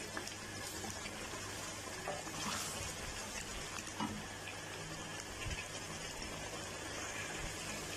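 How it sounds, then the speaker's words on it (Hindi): Oil fries in a pot for mutton karahi, a steady, soft sizzling hiss that runs without a break, with occasional faint pops. "5 मिनट के लिए तकरीबन ऑयल को हम अच्छी तरह भून लेंगे।"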